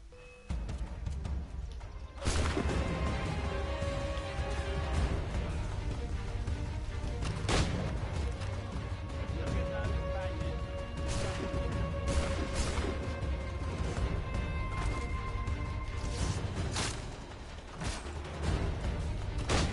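Gunshots in an Assassin's Creed 3 battle: sharp, loud reports at irregular intervals over a steady rumble of distant artillery and hooves, with booming blasts and no talk.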